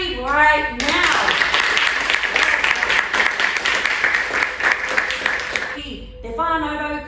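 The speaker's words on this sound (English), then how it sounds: "you can clap very loudly right now" An audience at a Māori cultural performance in New Zealand breaks into loud, sustained clapping and applause for several seconds, with a speaking voice briefly before and after the clapping.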